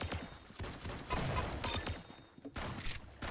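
Shotgun fire in ROBLOX Arsenal sounds as a rapid cluster of close, punchy blasts overlapping in a busy firefight over about three seconds.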